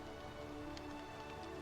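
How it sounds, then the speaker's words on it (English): Steady soft rainfall in the video game Minecraft, a continuous hiss of drops on surfaces, faint and even with no voices. "Hey, it's raining."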